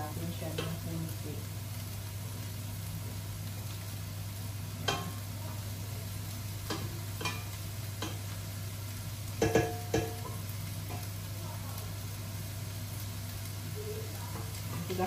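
A pot of Filipino pork menudo with plenty of vegetables simmers and sizzles faintly beneath a steady low hum, with a few sharp utensil clinks and knocks along the way.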